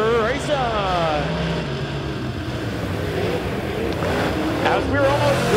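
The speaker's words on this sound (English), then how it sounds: "The lights are off, green flag is out, and we're racing." Race cars roar off at the green flag of a heat race at Lebanon Midway, engines revving and climbing in pitch as they accelerate past, with a race commentator talking over the din.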